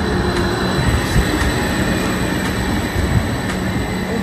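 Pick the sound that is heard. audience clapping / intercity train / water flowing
intercity train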